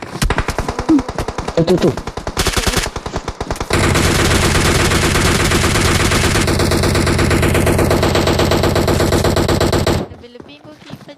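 Rapid automatic gunfire in the video game PUBG, loud and relentless, bursts of fire giving way to a long unbroken stream of shots before it cuts off, with a player's voice briefly heard.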